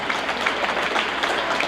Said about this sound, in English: And nice round of applause again